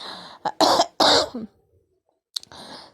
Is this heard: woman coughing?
yes